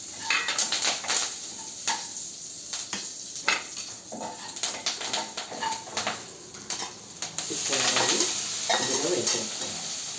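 Curry leaves and spices for a tempering sizzle steadily in hot oil in a pan as a spoon stirs and scrapes against the metal, with clinks near the microphone and the frying growing louder toward the end.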